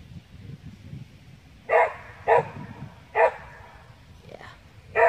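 A neighbour's dog barks outdoors, four sharp, fairly loud barks spaced irregularly over a quiet background.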